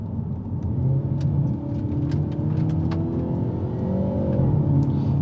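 Synthesized engine note from a Hyundai i30 Sedan N (Elantra N) in high performance mode, a steady sporty drone with rising and falling harmonics and a few sharp pops, close and continuous with no talk.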